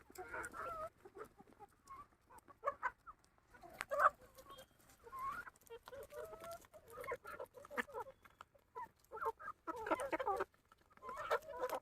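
Several chickens cluck and chatter softly nearby while feeding, in a busy, irregular stream of short calls, with occasional pecking taps and no talking.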